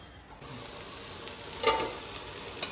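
Vegetarian Pallipalayam-style curry simmering in a pan, giving a steady soft sizzle with faint bubbling and a brief louder stir or clink near the middle, close and alone.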